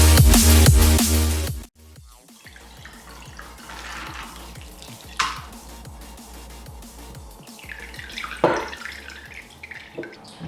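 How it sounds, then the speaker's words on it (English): Fermented rice water is poured through a sieve: a loud steady splashing stream for a moment, then softer trickling and drips with a few brief louder splashes, close by and without talk. "I'm going to sieve it now to extract the rice water to spray on my hair"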